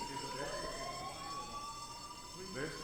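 A fire alarm rings in a video game, a steady high electronic tone sounding continuously at low level beneath faint background noise.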